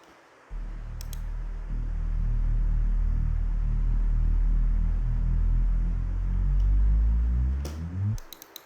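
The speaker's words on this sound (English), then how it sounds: "And also I've added this bass which is reversed." A reversed bass in a bass house build-up swells as a deep, sustained rumble for about eight seconds, then sweeps upward and cuts off abruptly, with faint clicks near the end.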